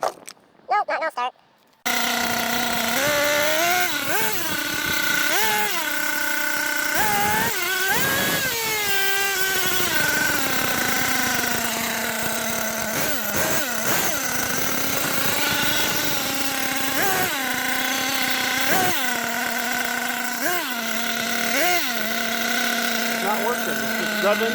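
A nitro engine in an HPI Savage X 4.6 RC truck revs repeatedly with a faulty transmission, its high whine rising and falling in pitch with a buzzy, rattling tone, close and loud.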